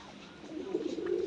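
Soft low cooing from pigeons kept at a sale of racing-type and red Danish birds, a swelling throaty coo close by that grows louder toward the end, heard alone.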